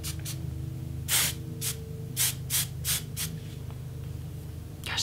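Hairspray hisses from an aerosol can onto hair in short, sharp bursts, about a dozen of them in an irregular rhythm, over a low steady hum with no talk.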